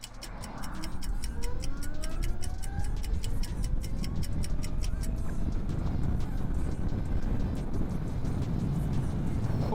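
A 2023 Zero S electric motorcycle accelerating hard from 0 to 100 km/h, its motor whine climbing steadily in pitch over several seconds beneath a loud, constant rush of wind and road rumble, with no talking.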